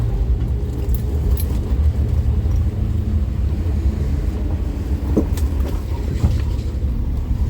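A car drives in second gear, its engine a constant loud rumble with road noise and faint rattles beneath it, steady throughout with no voices.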